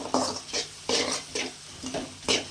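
Vegetables and capsicum sautéing in a pan for children's pasta, with a spoon stirring in regular scrapes that rise and fall about every half second over a soft sizzle, close and moderately loud, no talking.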